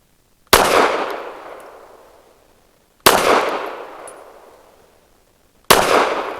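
Three loud, close pistol shots from a Kel Tec P15 firing heavy, slow 165-grain Ammo Inc rounds, each a sharp crack with a long decaying echo, spaced about two and a half seconds apart, with no talking.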